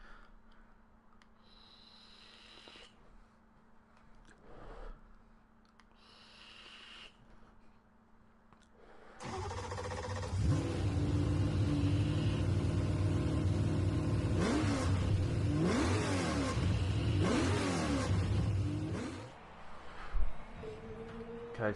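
A BMW Z4 revving hard in a PS4 racing game driven with a T150 wheel, the engine roaring loudly and steadily for about ten seconds after a quieter idle, with rising and falling pitch sweeps.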